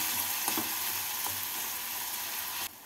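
A potato and pea curry with tomatoes fries in a pan and is stirred, giving a loud, continuous sizzle with a few soft knocks from the stirring before the sound cuts off abruptly near the end.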